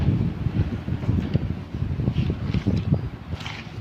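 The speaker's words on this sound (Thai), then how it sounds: "ลมแรง" Strong wind buffets an outdoor microphone, a steady loud low rumble with irregular gusting bursts throughout and no voices.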